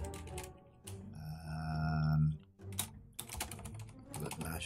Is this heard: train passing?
no